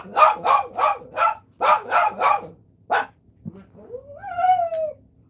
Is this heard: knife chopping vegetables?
no